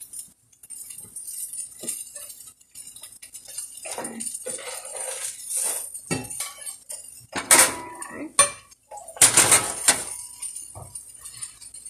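Pots, pans and metal utensils clatter and clink on a stovetop while cleaning up after cooking loroco pupusas, in scattered irregular bursts with sharp louder knocks toward the end, close by and with no talking.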